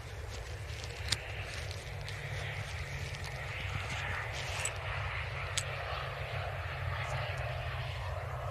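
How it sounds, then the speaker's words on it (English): Distant, even propeller drone of a Loganair ATR turboprop airliner landing on runway 23L at Manchester Airport, a continuous hum with faint scattered clicks. "Loganair ATR just about to touch down to our right"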